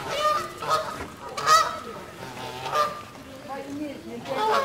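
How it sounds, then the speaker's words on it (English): Upset geese at a lake honking in a continuous, overlapping chorus of loud calls from several birds, with faint talk mixed in underneath. "Upset geese."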